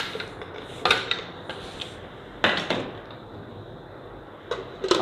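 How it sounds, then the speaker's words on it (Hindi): Several sharp clinks and hard clatters land at irregular moments as ice cubes drop into a blender jar with strawberries for a smoothie, over a steady low background hiss. "अब आइस क्यूब्स भी ऐड कर लेते हैं।"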